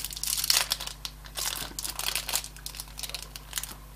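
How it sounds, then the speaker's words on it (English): Plastic packaging from an eBay parcel being pulled open and crinkled, a run of crackly rustling bursts close by over a low steady hum, with no talk. "Let's take out this packaging to start with"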